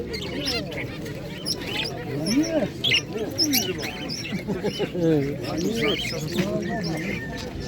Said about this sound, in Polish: Są gołąbeczki.